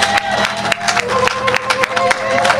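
A crowd at a church gathering claps steadily in dense, fairly close applause, with a voice talking over it.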